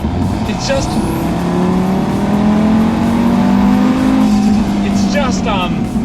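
A tuned Audi A3 fitted with a dump pipe accelerates hard, its engine note climbing through rising revs with a gear change and a second pull, loud and close throughout.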